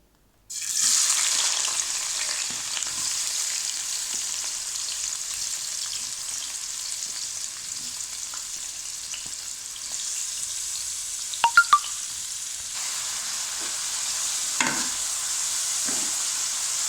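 Onions frying in a generous amount of ghee for a mixed vegetable sabzi hiss loudly and without a break. A few sharp clatters of stirring cut through near the end.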